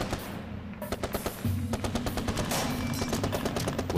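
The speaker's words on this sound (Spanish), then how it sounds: "Cuando suenan los primeros disparos, el Che se encuentra cara a cara con el enem" Rapid bursts of automatic gunfire, rattling in fast repeated volleys that grow louder and continue without pause.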